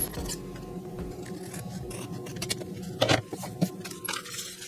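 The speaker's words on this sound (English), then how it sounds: "I'm going to go ahead and trim this just a little." Paper being trimmed with scissors while making a junk journal, with a few close, crisp snips and rustles standing out around the middle against a steady low background hum.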